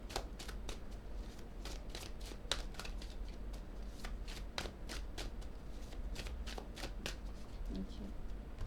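Tarot cards being shuffled at close range, a steady run of crisp riffling flicks and slaps repeating throughout at an even level.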